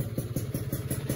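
A motorcycle engine idling at raised revs after a grounding kit was fitted, a steady rapid pulsing thump with a faint high whine, fairly close and moderately quiet, no speech.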